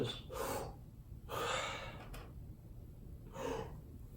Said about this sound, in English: practice breathing in real fast, maybe 10 times in a row